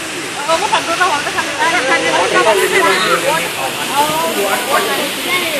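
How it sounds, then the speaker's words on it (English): Waterfall pouring into a river beside a hotel boat ride, a steady broad rushing hiss under continuous nearby voices and crowd chatter. "You'll feel a cool, misty breeze as we go through our waterfall section."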